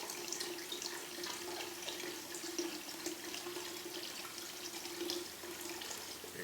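Apple cider vinegar poured steadily from a bottle, a continuous liquid trickle and splash close by, with a faint low hum underneath and no voices.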